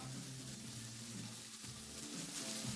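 Spices frying in a pan for sausage rolls, a soft steady sizzle with a faint hiss and occasional light stirring, quiet and close with no talk.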